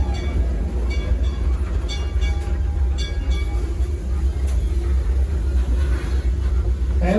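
A steam train at a Six Flags amusement park rumbles steadily along the tracks with a low continuous roar, faint metallic clicks and squeals rising above the noise.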